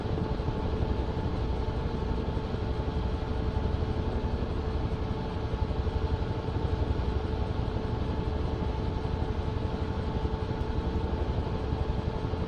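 A helicopter flying in Microsoft Flight Simulator 2024 gives a steady, continuous engine and rotor drone with a broad rumble and faint tonal hum, even in level throughout with no voices.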